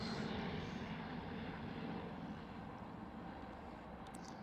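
A jet airliner at Amsterdam Schiphol airport gives off a steady, broad engine roar that fades slightly over a few seconds, heard from some distance with no voices.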